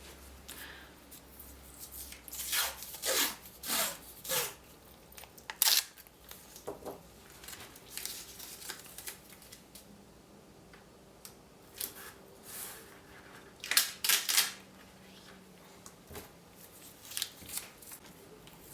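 Adhesive tape is pulled and torn off a roll while a paper painting is taped face-down for framing: a series of short, sharp ripping bursts in clusters, close and fairly quiet, with pauses between.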